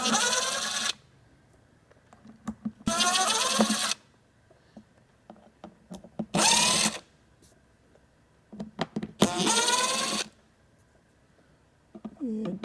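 A power drill whirs in four separate loud bursts while driving screws into a speaker cabinet, with quieter clicks and handling noises between the runs.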